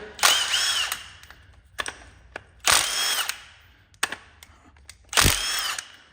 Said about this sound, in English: we'll pull the flywheel off here